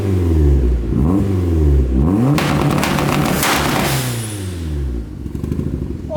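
A Mazda Miata engine revs hard and loud up close, the rising and falling pitch sweeping repeatedly as exhaust flames bang out, with crackling pops near the end.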